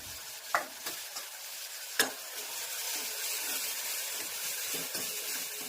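Spices sizzle in hot oil while tempering for a soybean curry, a close steady hiss broken by a few sharp clinks and scrapes of stirring near the start, with no speech.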